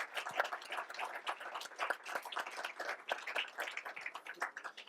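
Sustained audience applause at a Spanish-language book presentation, dense overlapping hand claps at steady moderate loudness with no talk.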